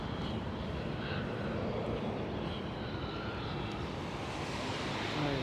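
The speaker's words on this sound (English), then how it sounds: "We are watching right now at the Delta Airlines A330 getting its de-icing." A Delta Airlines A330 airliner being de-iced at Schiphol airport gives off a steady, broad engine and airflow roar that holds level and fairly loud throughout, with no voices.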